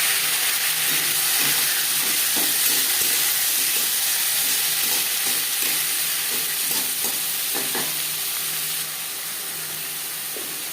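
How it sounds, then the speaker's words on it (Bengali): Torn bay leaf pieces fry in hot oil for a fish-head and potato curry, giving a loud, continuous sizzling hiss with faint scraping clatter that eases slightly near the end, with no talking. "তেজপাতা আমি টুকরো করে নিয়েছি পনেরো কুড়ি সেকেন্ড ভেজে নেওয়ার পর দিয়ে দেবো টমেটো পেঁয়াজ"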